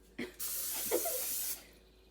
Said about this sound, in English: and then you spray the pan